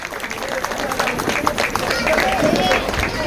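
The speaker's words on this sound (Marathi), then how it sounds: "जोरदार टाळ्या वाजवत आहेत त्यांच्यासाठी." Audience applause at a community golden jubilee ceremony, dense clapping swelling and holding under a voice talking over it and crowd murmur.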